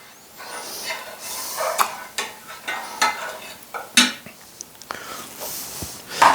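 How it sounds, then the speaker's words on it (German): A garlic clove is stirred into a pan of cooking food, with a series of close, uneven scraping strokes over a faint sizzle. "So, einmal umrühren, dass ihr alles vermischt."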